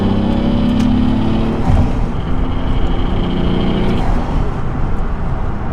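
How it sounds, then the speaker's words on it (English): A Toyota JZX100 turbo car with a twin-plate clutch and stock exhaust drones steadily from inside the cabin, a dense, heavy, truck-like engine roar that holds loud throughout with a slight swell as it pulls. "So the twin plate combined with this stock exhaust sounds like a truck."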